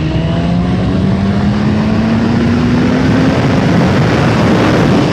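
A CFMOTO 750SR-S motorcycle engine revs under throttle in third gear from about 3000 rpm, a loud, close drone that climbs steadily in pitch without a break.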